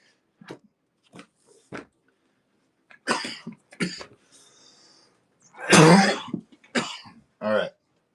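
Several dry coughs and throat clearings come in scattered bursts with quiet gaps, close and fairly loud, ending in a heavier fit of coughing.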